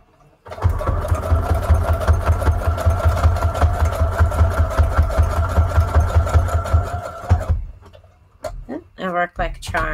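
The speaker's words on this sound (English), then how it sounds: "I'm going to use a zigzag stitch for these because they need to be held down just a little bit more." A sewing machine stitches a zigzag line onto paper card tags with a steady, close mechanical whir and rapid rhythmic ticking for several seconds, then stops, leaving a few brief clicks and handling noises.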